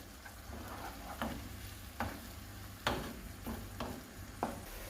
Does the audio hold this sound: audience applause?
no